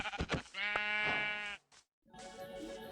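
A sheep bleats in a video game, a close, drawn-out wavering bleat after a few short thumps, then a brief pause and a second, softer bleat-like call.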